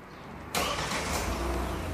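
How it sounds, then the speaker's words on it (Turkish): A Kia Sportage engine cranks and catches about half a second in, then settles into a steady, close idle with no talk. "Çalıştırın aracı."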